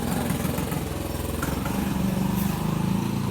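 A motorcycle engine drones steadily at mid distance in a remote village, its even buzzing hum holding throughout with slight rises and falls as it moves along.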